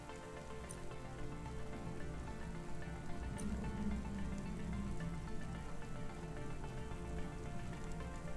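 Rain falls steadily outside a street food stall in the video game Cyberpunk, a soft continuous patter on surfaces that stays even and fairly faint with no one speaking.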